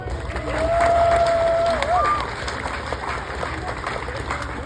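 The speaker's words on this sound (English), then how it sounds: "Let's give them a nice big round of applause." Outdoor crowd at a South Dakota western shootout event cheering and applauding for a group of deputies, a broad wash of claps and shouts swelling loud early then holding steady, with a whistle-like tone cutting through near the start.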